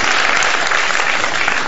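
Studio audience applause on a morning talk show, a short, dense, steady wash of clapping, loud and full throughout.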